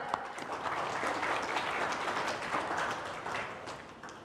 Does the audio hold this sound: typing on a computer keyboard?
no